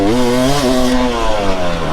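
Engine of a 2012 KTM 300 two-stroke dirt bike revving hard and close, a loud, raspy, buzzing drone whose pitch rises and falls throughout.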